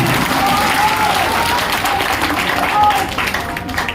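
Crowd clapping at an RJD candidate's election rally, a dense continuous patter of applause heard close and loud for a few seconds, with voices mixed in beneath it.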